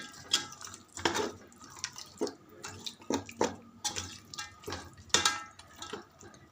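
Water splashes and drips in uneven bursts, like a small vessel being poured into a metal pot, with occasional clinks.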